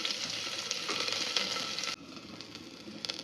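Finely chopped onion fries in hot oil for a South Indian mutton lunch, giving a loud, steady sizzle that drops a little partway through, with no talking.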